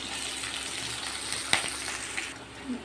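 Mustard seeds, curry leaves and onion fry in hot oil for a ridge gourd poriyal, giving a close, steady sizzle with a sharp pop or spatter midway, no voices.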